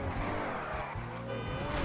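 A Vagner sports car in a video game roars steadily with a dense engine drone and tyre scrubbing throughout, loud and close, while a voice talks over it.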